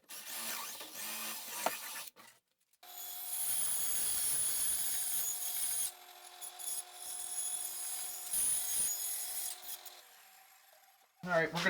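A power drill with a bit bores through the wood of a cornhole board, a steady loud whirring grind lasting several seconds with brief pauses and changes in pitch, plus a few clunks at the start and end.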